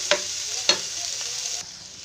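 Pork lechon sizzles in a pan with garlic and onion, with two sharp stirring scrapes over a steady, faint frying hiss.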